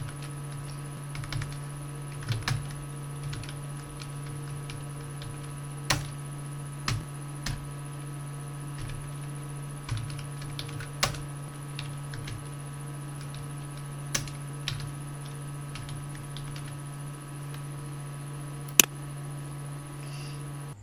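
Sparse, faint clicks of typing on a computer keyboard, a few keystrokes at a time, over a steady electrical hum with no talking.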